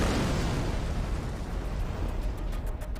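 Tank main gun firing in a battle on the Golan Heights, a loud sustained boom with a rumbling roar that fills the whole stretch and tails off slightly at the end.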